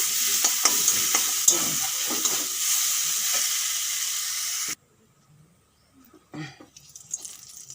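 Kohlrabi leaves fry in a pan with a bright, close sizzle and a few stirring clicks, which cut off abruptly after almost five seconds and leave near silence with a brief clatter.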